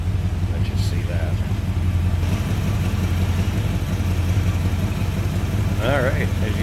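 A 1965 Mercury Comet Caliente convertible with a 289 V8 rumbles steadily at idle, a low, even engine drone heard up close throughout with brief chirpy noises over it.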